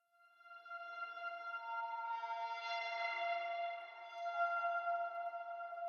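An atmospheric texture sample from Arcade, used as an intro layer in a jump-up drum and bass track, swells in as a faint, airy sustained tone with a breathy shimmer rising midway, quiet and alone.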